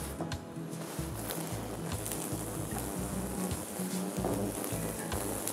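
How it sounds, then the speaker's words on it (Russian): Carrots sizzling in a hot frying pan while cooking beef sauté, a steady close crackling hiss with low pulsing hum beneath. "Сковородка нагрелась, выкладываем морковь."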